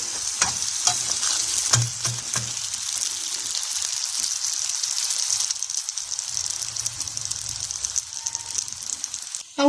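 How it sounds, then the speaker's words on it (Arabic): A phyllo custard pie fries in a little ghee in a pan on a gas stove, giving a continuous close sizzle with a few clinks and scrapes as it is turned. "ونحط فيها حته سمنه صغننه، ونسويها على البوتاجاز."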